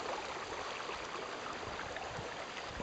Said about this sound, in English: So you can see down here that the creek is still running